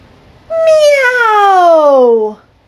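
A person imitates a cat's meow, one long drawn-out falling call, loud and close, with no other sound around it.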